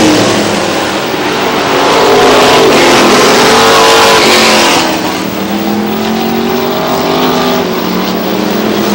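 Stock cars roar past at close range at Star Speedway while racing to the checkered flag, a loud dense wall of engine noise swelling then shifting as the pack passes.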